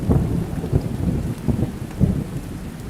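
Steady heavy rain pours in a cartoon scene with low rumbles of thunder swelling through it, a dense continuous wash without any voices.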